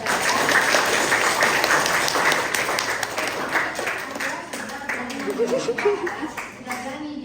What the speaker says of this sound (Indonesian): Oke, tepuk tangan untuk Anda.